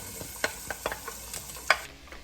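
Onions and celery sauté in three tablespoons of butter on a stovetop, giving a faint background sizzle broken by a few sharp stirring clicks and scrapes of a utensil against the pan.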